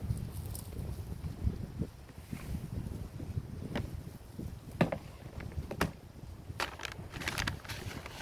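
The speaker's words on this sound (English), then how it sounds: "Windy." Gusty wind buffeting the microphone outdoors, rumbling low and uneven with scattered clicks and rustles.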